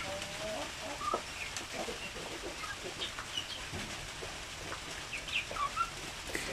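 Native free-range chickens cluck softly and intermittently in a quiet yard, scattered short calls at moderate distance over faint background noise.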